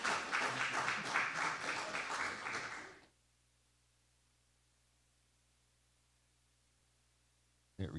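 A church congregation breaks into dense, loud applause with a few scattered voices mixed in, sustained for about three seconds before cutting off abruptly to near silence.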